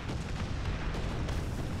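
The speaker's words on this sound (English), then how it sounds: "And my artillery strike destroys his tank" An artillery strike destroying a tank in a video game sounds as a continuous, rumbling barrage of heavy booms and crackling blasts, dense and moderately loud without pause.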